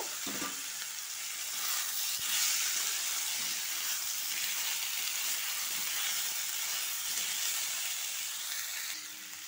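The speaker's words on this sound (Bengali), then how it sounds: "এবার আমি সিদ্ধ করে রাখা আলু দিয়ে দেব।" Boiled potatoes tipped into a hot pan with softened tomatoes sizzle and hiss steadily while frying, with occasional stirring scrapes, close and continuous throughout with no talking.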